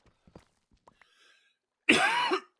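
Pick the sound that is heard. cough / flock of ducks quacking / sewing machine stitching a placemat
cough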